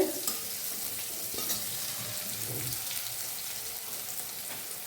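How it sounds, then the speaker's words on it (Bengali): Bitter gourd with turmeric and salt frying in a pan, a soft continuous sizzle broken by a few stirring scrapes and taps, fairly quiet and without any voices. "দেখো করলা ফ্রাই হচ্ছে।"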